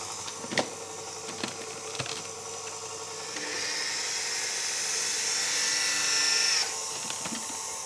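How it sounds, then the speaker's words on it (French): An electric mixer whips egg whites at top speed with sugar while hazelnuts are ground alongside, giving a loud, dense whir that swells into a harsher grinding roar midway before easing back, close and without talk. "je vais mettre ça à tourner et je vais profiter du bruit que ça fait pour mixer mes noisettes"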